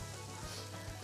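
Garlic sizzling in a frying pan while risotto is prepared, a faint, steady crackle and hiss with no voices over it.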